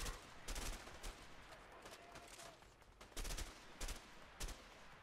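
Rapid bursts of gunfire from the video game A Way Out, several loud volleys cracking out in clusters with short gaps between, over a steady noisy background.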